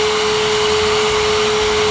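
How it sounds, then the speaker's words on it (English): A homemade shop vacuum powered by an EGO 56V battery runs steadily, a loud constant motor whine and rushing airflow with a steady tonal hum, close up and alone. "Not as much suction as a shop vac will have, but still a tremendous amount of airflow."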